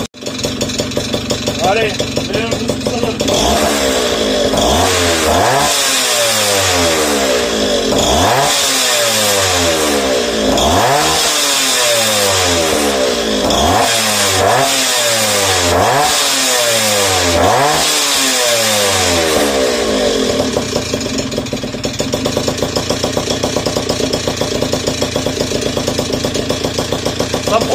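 Peugeot Chappy moped fitted with a Polini 62cc kit, revving hard in loud repeated bursts with rising and falling pitch, then settling into a steady high drone; a voice speaks briefly over it.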